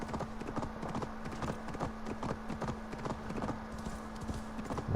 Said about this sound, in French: Bah, il va vite hein mon cheval.